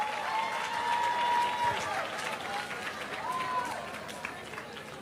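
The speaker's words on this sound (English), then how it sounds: "Come on, round of applause." Loud, sustained applause fills the hall at a women's creative awards gathering as an honoree is called up, dense clapping mixed with a few shouts and whistles rolling on without a break.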